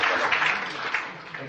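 A ceremony audience gives a short burst of steady applause, a dense wash of clapping that carries on evenly through the moment.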